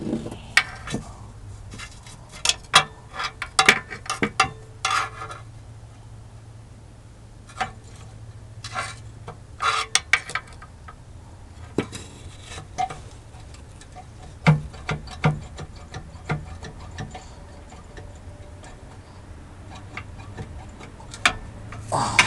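Loose flexplate being wiggled on an Allison AT545 transmission in a 1987 International S-1700 bus, giving irregular sharp metallic clicks and knocks, some in quick clusters, over a low hum, fairly quiet and close.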